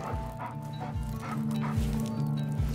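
A puppy in a Nintendo Switch video game gives short repeated yips and barks at a steady rhythm over a soft background music bed, fairly faint.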